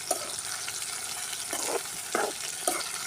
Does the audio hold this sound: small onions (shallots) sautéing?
yes